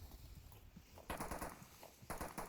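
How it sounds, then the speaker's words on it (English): Gunfire in the VR shooter Onward during a competitive match, heard as quick bursts of distant shots in two clusters over a noisy, hissing background. "Now he's got some gunfire coming his way"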